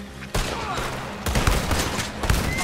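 Gunfire from the video game Red Dead Redemption 2, including a shotgun: several loud, sharp bursts of shots in quick succession.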